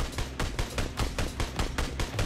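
Assault rifle fire in PUBG Mobile, with rapid, loud automatic bursts cracking out in a quick rhythmic string of shots and no voices.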